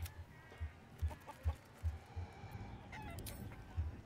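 Chicken clucking in the video game Baldur's Gate 3, a series of short low clucks repeating at a steady, rhythmic pace over faint background game ambience.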